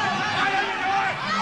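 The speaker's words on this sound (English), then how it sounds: "The crowd at Edmonton" A crowd at a Muay Thai bout in Edmonton keeps up a steady, loud roar and chatter throughout, with a commentator's voice mixed in.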